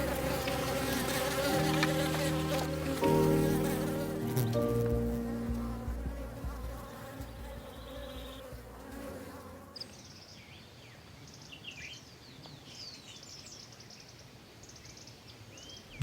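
Native Apis honey bees buzzing in a continuous insect drone, at first under a bed of music, then heard more plainly and closer over quieter ambience in the second half.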